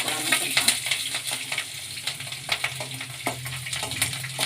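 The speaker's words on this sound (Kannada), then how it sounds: "ಸಾಸಿವೆ ಹಾಕ್ಕೊಳ್ಳೋಣ ಹಸಿಮೆಣಸಿನ್ಕಾಯಿ ಫ್ರೈ ಮಾಡ್ಕೊಳ್ಳೋಣ" Mustard seeds and green chilies fry in hot oil with a dense close crackle, and irregular pops and spits sound over a steady sizzle.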